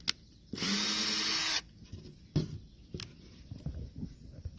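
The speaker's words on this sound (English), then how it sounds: "we're having the pilot holes drilled right now" Power drill boring pilot holes into a piece of furniture being refinished, one loud steady burst of about a second, followed by quieter handling knocks and shuffling.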